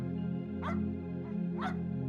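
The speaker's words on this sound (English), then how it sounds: "He scratches and paws and whimpers at the door" A dog whimpers at a garage screen door in two brief, high whines over a steady low hum. No scratching is clearly audible.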